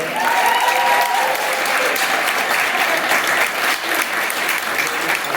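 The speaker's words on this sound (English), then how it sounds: "Give a huge round of applause." Sustained, loud round of applause from an audience at an evening event in a bar, thick and even clapping with a brief vocal tone near the start and no break throughout.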